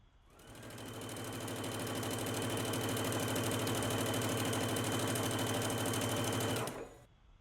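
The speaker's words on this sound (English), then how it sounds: "you want to stitch at a 5/8 of an inch seam allowance. I'm going to start at the hem and work my way up to the top." A sewing machine runs steadily while stitching a dress seam from hem to top, a fast, even mechanical whir that starts abruptly, holds a constant rhythm for about six seconds, then stops, heard close and alone.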